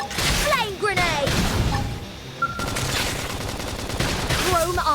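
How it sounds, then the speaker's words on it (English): A flame grenade attack in Xenoblade Chronicles X bursts amid dense, continuous battle noise of rapid gunfire-like blasts, whooshes and chirping effects, loud throughout with a brief dip midway. "Flame grenade!"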